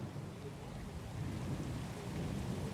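Stormy weather at sea in the game Pillars of Eternity 2: Deadfire, with steady rain washing over a low, rolling rumble of thunder that swells slightly toward the end, continuous and fairly faint with no voices.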